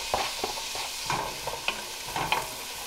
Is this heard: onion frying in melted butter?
yes